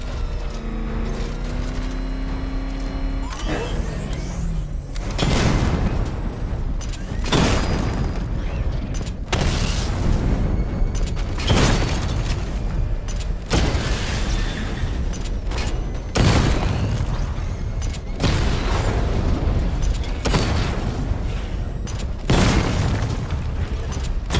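Repeated heavy booming bursts of a barrage secondary weapon in Batman Arkham Knight, loud and close, firing in a roughly regular rhythm of about eight blasts, each with a rumbling tail.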